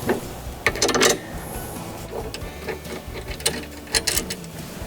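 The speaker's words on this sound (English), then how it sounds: "we can get the spanner and we can start to tighten them up" A spanner tightens nuts down onto split washers on a Cobra RM51SP80V cordless lawn mower, with irregular metallic clicks and scrapes close by, in short uneven bursts.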